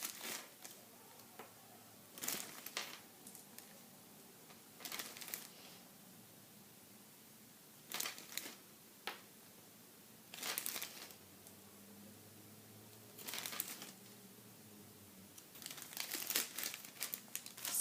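A plastic baggie crinkles in repeated short bursts as jelly beans are emptied out onto a surface, with quiet pauses between each handling, close and clear.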